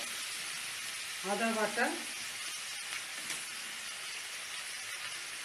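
Water poured into a hot pan of softened tomato curry sizzles with a steady, bright hiss that continues throughout, while a voice briefly speaks over it.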